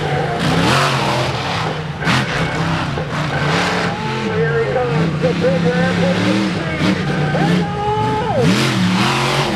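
A Hall Brothers Ram monster truck roars around a Monster Nationals track in Sturgis, its engine revving up and down with tire squeal, loud and close, while an announcer talks over it.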